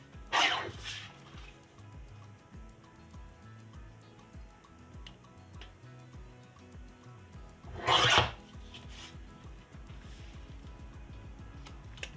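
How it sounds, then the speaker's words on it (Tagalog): Paper for a pop-up vase card being cut or trimmed by hand, giving two brief loud rasping strokes a few seconds apart over a quiet, steady background. "Ikakat ko pa siya ng konti."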